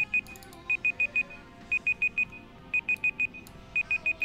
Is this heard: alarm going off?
yes